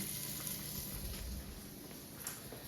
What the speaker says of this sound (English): Got our bacon in there, cooking away, getting ready